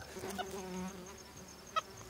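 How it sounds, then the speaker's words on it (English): Faint buzzing of bugs at night near a tiger rattlesnake, a thin insect drone with one brief louder buzz close by. "It's a bug."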